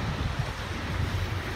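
Surf rolls and washes against a rocky shoreline below stone steps, a steady close rumble of water with wind noise on the microphone and no voices.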